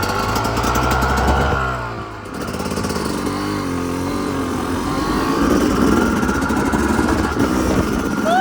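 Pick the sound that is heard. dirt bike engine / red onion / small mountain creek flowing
dirt bike engine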